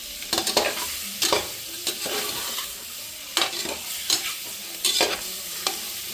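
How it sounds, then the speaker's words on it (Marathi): Boiled eggs frying in oil with salt and chili, a light sizzle under sharp, irregular bursts of spatula scraping and stirring against the pan, close and clear with no voices. "मीठ मिरची टाकले, तेलामध्ये परतून घेते"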